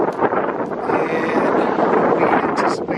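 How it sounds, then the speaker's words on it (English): Strong gusty wind buffets a campsite as a thunderstorm approaches, a loud, steady broadband roar with rumbling microphone buffeting throughout. "It is really windy now"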